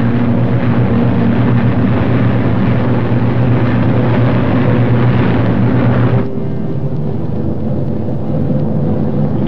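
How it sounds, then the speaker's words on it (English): World War II P-51 Mustang fighters and B-29 bombers fly in formation, a dense, continuous roar of many piston engines that holds steady, then drops slightly in level and brightness toward the end. "The Mustangs climb in formation to take positions above the boxes of B-29s."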